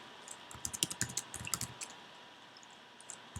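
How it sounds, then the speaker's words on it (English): Keystrokes on a computer keyboard clatter in quick irregular bursts, close and fairly quiet, then thin out to a few scattered taps. "I can't see what I'm typing as I type it."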